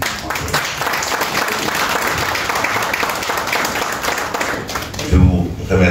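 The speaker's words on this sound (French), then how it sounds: "je demande pour ses qualités professionnelles et humaines que Mohamed soit bien applaudi pour les initiatives" An audience at a corporate speech by the board chairman of Bolloré Transport applauds Mohamed with steady, dense clapping that runs for several seconds before a voice briefly cuts in at the end.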